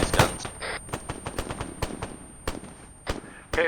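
Rapid bursts of automatic gunfire crack out in the Arma 3 military shooter during an embassy attack, sharp separate shots and short volleys spread through the moment, with a distant radio-like tone running beneath.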